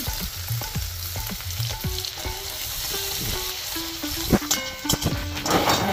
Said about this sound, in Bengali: পেঁয়াজ কুচিগুলো ছেড়ে খুব ভালো করে ভেজে নিতে হবে